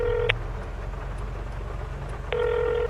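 A telephone call rings twice in Farming Simulator, sharp electronic trills spaced about two seconds apart over a steady low engine rumble.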